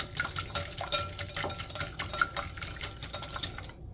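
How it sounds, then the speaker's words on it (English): An egg gets whisked in a bowl while corn fritter batter is mixed, a steady fast clatter of rapid tapping strokes that runs close and fairly loud, then stops abruptly. "Let's get our egg in the bowl first. Whisk that."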